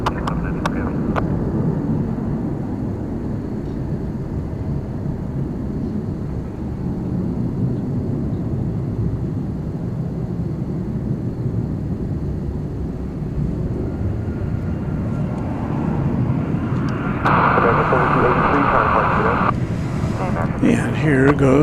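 A Boeing 767 heavy airliner starts its takeoff roll at DFW Airport, giving a steady, loud broadband engine roar that swells slightly toward the end, with speech-like chatter over it.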